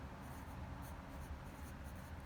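Pencil or pen scratching steadily across paper while a bakery logo is sketched, a faint continuous scribbling texture with short stroke bursts and no voices.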